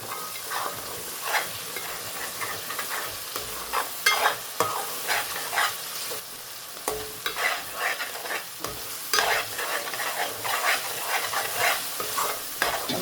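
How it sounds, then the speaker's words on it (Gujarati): Spice masala is stirred and sizzles in a hot cooking pan for a pomfret and tiger prawn gravy, with repeated close scraping strokes over a constant frying hiss. "આપણે મસાલો ફેરવી નાખીએ"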